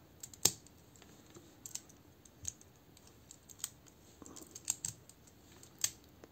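Plastic Transformers United Rumble and Frenzy toy parts click and snap as they are pegged together, giving a scattered series of sharp, close clicks and light rattles over near silence.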